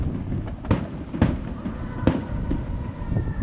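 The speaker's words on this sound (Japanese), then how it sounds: "花火が上がってる。" Festival fireworks go off at a distance, a series of several dull booms and cracks spaced irregularly over a constant outdoor rumble, with no voices heard.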